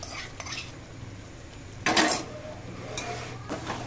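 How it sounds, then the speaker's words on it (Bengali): Chicken coated in milk and cashew paste being stirred in a bowl, with a few separate utensil scrapes and clinks and one louder knock in the middle, close and fairly quiet. "চিকেন খুব ভালো করে নেড়ে দেব।"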